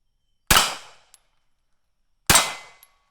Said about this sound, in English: This is a fun gun to shoot